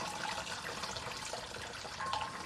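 Water runs and trickles steadily while sweet potato glass noodles (dangmyun) are soaked, a soft, continuous liquid wash at low volume with faint splashes throughout.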